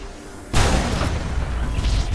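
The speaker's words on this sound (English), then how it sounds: "That is like the sickest explosion ever." A sudden loud explosion in the video game ULTRAKILL bursts in after a quiet moment, followed by a rumbling, crackling roar that lingers.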